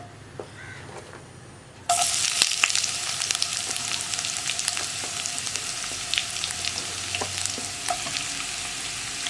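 Sliced onions drop into hot oil with cloves for a plain salna and burst into a loud, continuous close sizzle after a brief quiet start, with scattered pops and stirring scrapes.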